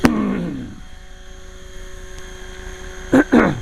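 A 450-size RC helicopter hovers with a steady, faint whining hum from its motor and rotor. Two brief louder bursts come near the end.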